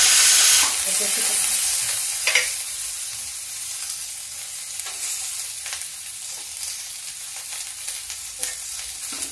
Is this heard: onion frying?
yes